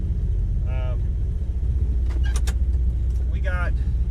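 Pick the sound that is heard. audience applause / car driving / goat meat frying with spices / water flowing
car driving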